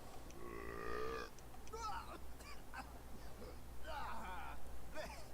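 A yak in a video game lets out gurgling, drawn-out burps, the first lasting about a second, with others following amid speech-like voice sounds.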